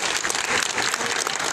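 A crowd at an outdoor swearing-in ceremony in a Oaxacan town applauds, a loud, dense wash of many hands clapping at once, close and continuous for the whole brief stretch.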